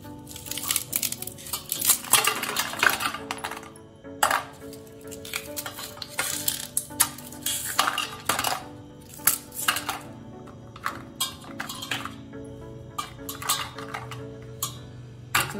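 A spoon or whisk beats a mango phirni mixture in a dish set over ice, giving irregular bursts of clinking and scraping with short pauses between strokes.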